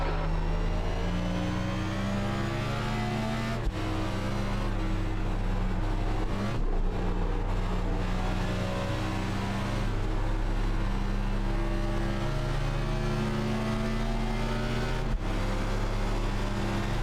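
In the iRacing video game, race car engines roar continuously and loudly around Watkins Glen, with a sustained droning whine that briefly dips and shifts as gears change. No talk is heard.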